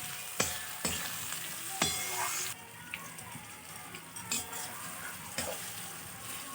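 Green chillies fry in a pan for mutton kosha, sizzling quietly under repeated spoon scrapes and taps at an irregular pace. Close and fairly soft, with no speech.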